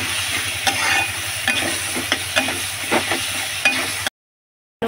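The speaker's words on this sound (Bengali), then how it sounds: "ভালো করে কষে নিয়েছি মশলাটা।" Spice masala of turmeric, coriander and chili powder with chicken masala is sautéed in a pan, a loud continuous sizzle broken by repeated scraping stirs, then cut to silence near the end.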